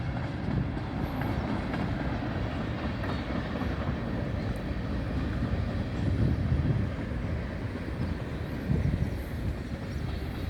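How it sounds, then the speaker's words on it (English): An empty northbound ethanol manifest freight train rolls past close by, a continuous loud rumble of wheels and cars with faint clickety-clack and no talking. "this is part two of the northbound ethanol manifest train."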